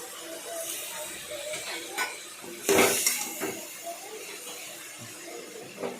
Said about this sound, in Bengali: তারপর সেটাকে ভালো করে নাড়াচাড়া করলাম যাতে কালো জিরেগুলো চারদিকে মিশে যায়